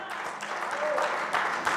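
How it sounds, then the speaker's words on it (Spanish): A church congregation claps hands together at a worship service, a dense steady patter of applause lasting under two seconds with no break. "Dele fuerte las palmas al Rey"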